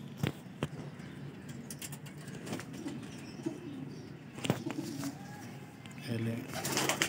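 Baby pigeons coo softly amid scattered wing flaps and handling clatter, with faint low coos and brief chirps while someone talks nearby.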